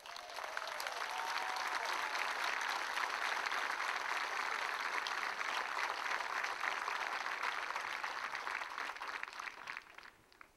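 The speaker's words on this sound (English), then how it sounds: "So that in itself deserves an applause." An audience at a cadet graduation ceremony claps steadily in a dense, sustained burst of applause lasting about ten seconds before tapering off.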